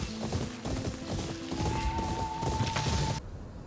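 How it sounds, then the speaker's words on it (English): Horse hooves gallop rhythmically in Ghost of Yōtei as the horse sprints through white flowers, steady close clip-clops layered with tonal game music and effects before cutting off abruptly near the end. "riding through white flowers for a sprint bonus with your horse"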